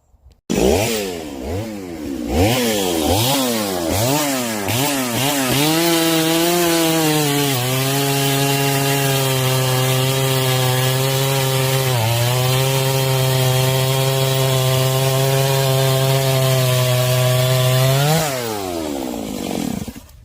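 A chainsaw with a Stihl Hexa chain cuts through a log, revving up in pulsing bursts before settling into a loud, steady bite through the wood, then easing off as the cut finishes, with no talking.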